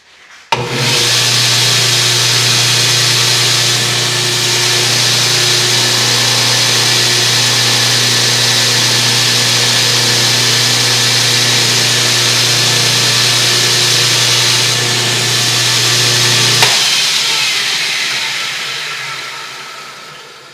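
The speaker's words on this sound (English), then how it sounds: "we're going to go ahead and fire it up and see where the belt is tracking" A Grizzly belt grinder fitted with a mod kit starts up and runs steadily with a loud, even motor hum and belt whir, then spins down and fades near the end.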